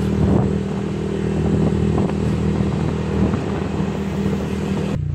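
Honda Click scooter with a damaged engine running steadily, a close, continuous motor drone with a low rattling clatter and slight whir, holding an even pace without strong revving before cutting off abruptly near the end.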